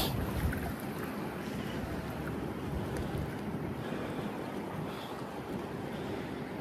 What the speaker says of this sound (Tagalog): Medyo mahangin po kasi.